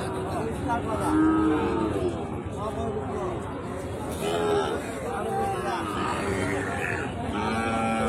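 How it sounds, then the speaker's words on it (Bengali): Sahiwal cattle moo at a livestock market, several low drawn-out calls rising over a constant murmur of crowd chatter and nearby voices. "এই পাশে কিছু ছোট ছোট সুন্দর সুন্দর শাহিওয়াল গরু রয়েছে"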